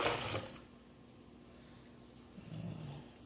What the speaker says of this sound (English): now we're going to pour the 3½ cups of cold water in